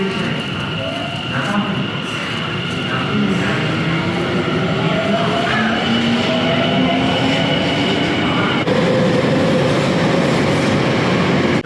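A train runs through a large station in Japan, its steady rumble filling the scene with tonal squeals and wheel hum rising and sliding throughout, loud and close, with no voices.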